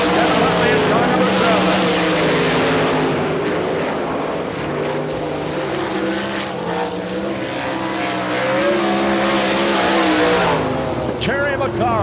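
Sprint cars roar around the dirt oval at Barberville, Florida during an All Star Circuit of Champions Speedweek race, with loud sustained engine howls rising and falling as they pass, under a track announcer's voice.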